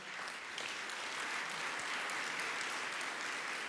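A full room of attendees at the San Francisco mayor's Earth Day breakfast breaks into sustained, even applause, a loud and close blanket of clapping with no talk over it.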